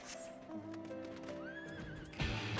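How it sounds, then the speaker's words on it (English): A horse mount in an online fantasy MMO game whinnies with a clear rising neigh over steady hoof clip-clop, close and loud, and a brief burst of louder movement near the end. "Horse! We are going with the horse."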